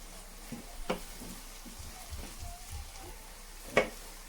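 Chana masala cooks in a pan, giving a faint, low sizzle with a few scraping stirs, two of them sharper clicks of a spoon on the pan.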